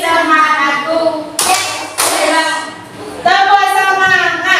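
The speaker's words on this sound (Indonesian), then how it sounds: "ayo tepuk semangat" A group claps in the rhythmic tepuk semangat chant, a few sharp claps cutting through singing, chanting voices that carry on around them.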